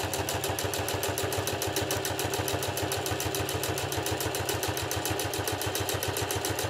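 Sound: Singer Heavy Duty sewing machine motor stitching leather

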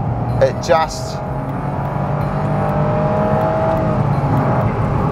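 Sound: Honda S660 engine accelerating

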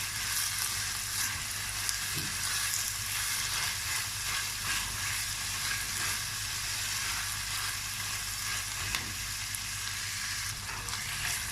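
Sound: tomato paste sizzling in pan

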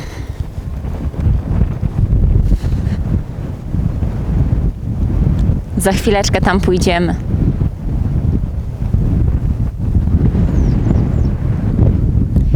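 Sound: strong wind

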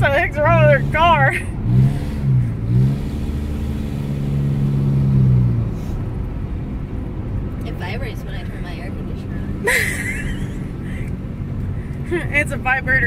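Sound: car engine revving while driving, car shaking

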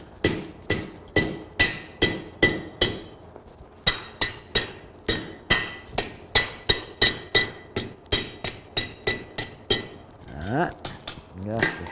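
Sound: blacksmith hammering half-inch stock into a leaf hook

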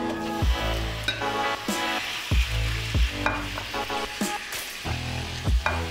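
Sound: meat frying and sizzling in a pan for lasagne

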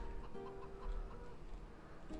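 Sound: chickens clucking in Farming Simulator 2013 video game

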